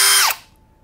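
A brushless power drill whines at high speed and then winds down quickly to a stop, loud and close, leaving a faint steady hum after it with no talk.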